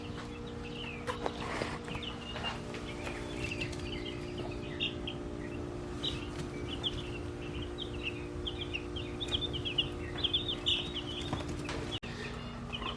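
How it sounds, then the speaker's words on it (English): Meat chickens inside a shop chirp and cluck in a busy, continuous chatter of short calls, close by and fairly quiet over a steady background hum. "let's go in here in the shop and show you all the meat birds and see how they're doing."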